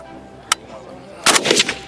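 Rifle shots ring out at a school patriotism weapons training session: one sharp crack, then after a pause a denser burst of several quick reports.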